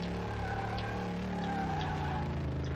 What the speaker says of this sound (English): Really good drift car. Okay, so let's go in a straight line. Oh, it just wants to drift.